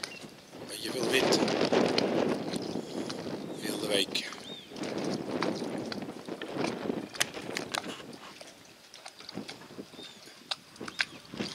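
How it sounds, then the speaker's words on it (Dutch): Strong wind buffets the microphone on Bolga island in Norway, with loud rumbling gusts that rise and fall and slowly ease off. Faint voices may be mixed in. "Beetje veel wind."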